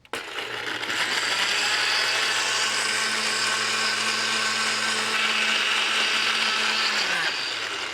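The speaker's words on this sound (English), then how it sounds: "Puree these ingredients in a blender." A blender whirs loudly and steadily for several seconds, starting abruptly and winding down at the end.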